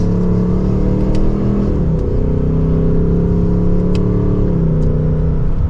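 A 2024 Ford Mustang GT pulls hard from second gear, its engine droning loud and continuous with rising pitch and brief dips at the upshifts, heard up close from inside the car.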